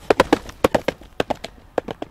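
A horse's hooves clip-clopping across a bridge, crisp uneven hoof strikes in quick clusters of two and three, fairly close and clear, with no talking over them.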